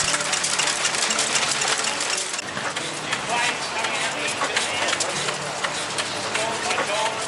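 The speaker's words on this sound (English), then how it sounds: "A great lineup of old stationary engines." Row of old stationary engines running at an outdoor display, a busy overlapping chuffing and rapid ticking beat, fairly close and steady, with voices talking over it.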